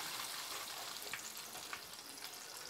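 Shredded beef frying in hot oil on a first fry, a steady dense sizzle with small pops throughout, close and continuous with no voices.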